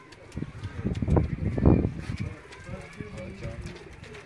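Pigeons coo close by in soft, throaty bursts, the strongest around the middle, while people talk quietly in the background.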